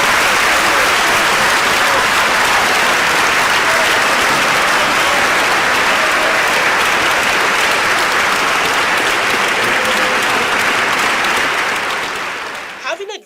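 Sustained, loud applause from a large lecture audience, a dense wash of clapping that holds steady for several seconds before cutting off abruptly.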